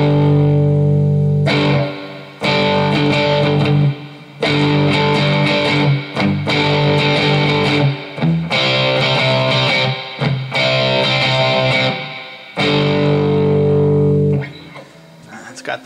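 Electric guitar played through a Marshall amp model with heavy distortion: thick sustained chords ring out in a series of strummed phrases with brief gaps between them, loud and alone.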